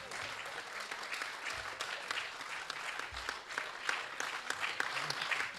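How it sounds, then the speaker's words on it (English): An audience at an awards ceremony applauds the winners with a sustained, even clatter of many hands, moderately distant and continuous from start to finish. "Let's have a big round of applause for all our winners tonight."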